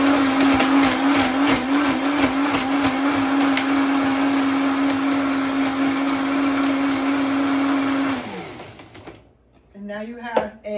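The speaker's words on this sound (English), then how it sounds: "What's going to happen is the blender does the work." A countertop blender purees strawberries, dates, chia seeds and water into jam, its motor roaring at a steady high pitch for about eight seconds before spinning down and stopping, followed by brief quiet rattles.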